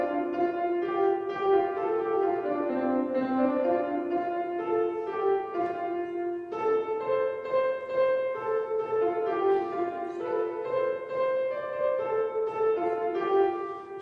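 A shape-note hymn melody played on piano or organ in a steady, sustained line of held tones, moderately quiet and heard alone without voices.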